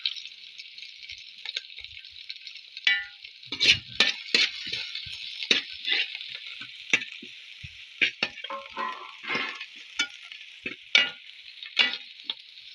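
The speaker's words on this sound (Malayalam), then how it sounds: "അരിഞ്ഞു വെച്ച ഇഞ്ചി പച്ചമുളക് അരിഞ്ഞത് എല്ലാം വഴറ്റാം കറിവേപ്പിനും കൂടി ഇട്ട് കൊടുക്കാം" Chopped ginger, green chilies and curry leaves sauté in hot oil for mango-ginger pickle, with a constant bright sizzle broken by irregular spatula scrapes and clinks against the pan, close and without talk.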